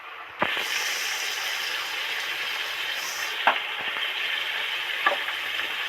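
Bitter gourd and mixed vegetables fry in oil as radhuni seeds and ginger paste go in: a continuous moderate sizzle with a few sharp clicks and spoon knocks scattered across it.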